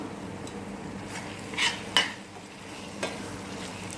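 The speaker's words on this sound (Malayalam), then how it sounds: "3 തക്കാളി, മീഡിയം സൈസ് തക്കാളി ആഡ് ചെയ്ത് കൊടുക്കാം" Three chopped medium-size tomatoes go into a pan for fish biryani: a few distinct clinks and scrapes of a utensil against the pan, spaced apart over a soft background.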